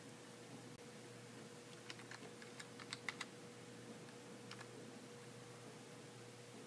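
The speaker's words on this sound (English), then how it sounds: "Let me type that in for you." Typing on a computer keyboard, a short run of light, quick key clicks near the middle, set against a steady hum of background noise.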